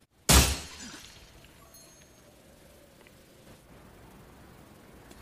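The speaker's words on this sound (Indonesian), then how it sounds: "Tiba-tiba adanya suara kaca pecah." Glass shatters in a single sharp loud crash near the start of a film scene, followed by a quiet, low lingering room tone with no voices.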